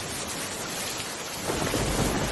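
Steady, dense rain pours down on a village in a cartoon, with a low rumble of thunder growing heavier in the second half, no voices present.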